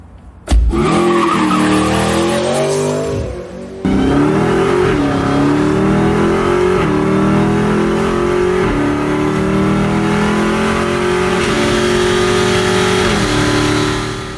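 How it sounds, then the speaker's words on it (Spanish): A 707-horsepower supercharged Dodge Challenger Hellcat revs hard and loudly, its engine note rising and falling through repeated throttle blips with tire squeal, a brief dip before it picks back up and sustains a roaring, whining drone. "707 caballos respondiendo en el pie derecho y el supercargador silbando en cada acelerada."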